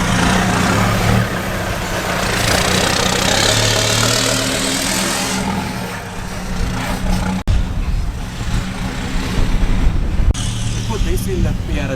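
A vehicle drives up a residential driveway, its engine a steady close rumble that shifts and eases as it arrives, while people talk over it.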